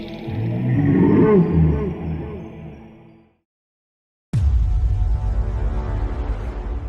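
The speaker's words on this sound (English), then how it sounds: "mechanical whirs filled the hangar as the behemoth began to power up" A giant Metal Gear tank powers up inside a hangar: a loud, wavering mechanical growl swells and fades into a moment of silence, then a sudden deep rumbling hum bursts in and holds steady.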